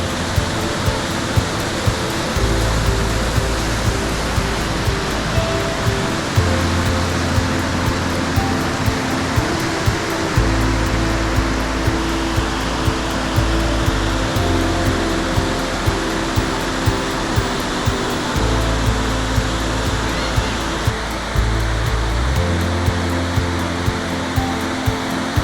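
Waterfall cascading through a gorge in the Black Forest, a steady, loud, full roar of rushing water that continues unbroken throughout, with no voices.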